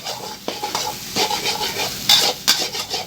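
Two eggs fry in a hot pan as the base for stir-fried rice noodles with pork. The sizzle is loud and close, and a spatula scrapes and stirs repeatedly against the pan.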